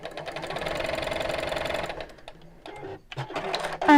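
A sewing machine quilting rows runs steadily and loudly for about two seconds, then stops; quieter handling clicks and bumps follow.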